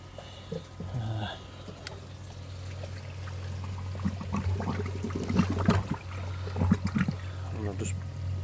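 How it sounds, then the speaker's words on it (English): A DIY pond filter box refills with water after its bottom drain is pulled, a steady pouring trickle running throughout over a constant low hum, with brief splashes and a voice speaking in the middle. "So all I need to now is pull the bottom drain, and you'll hear it fill up"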